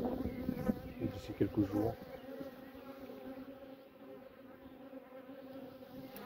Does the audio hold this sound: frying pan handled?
no